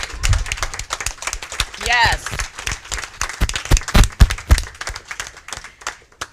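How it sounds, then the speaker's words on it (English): Audience applause and cheering at a 2023 Hartford mayoral candidates forum, a burst of clapping with a whoop, mixed with close talk from people in the room. "give you a round of applause for being here"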